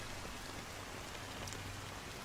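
Steady rain falls in the video game Honkai Star Rail, a dense, even patter that holds unchanged for the whole short stretch with no voices over it.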